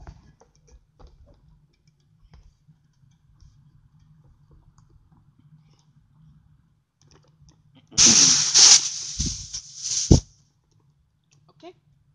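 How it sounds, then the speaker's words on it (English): Gas tank being pulled out of an airsoft gun: after a long quiet stretch comes a sudden hissing release of gas lasting about two seconds, then a few sharp clicks and a sharp snap, close to the mic. "Let me take the gas tank out real quick."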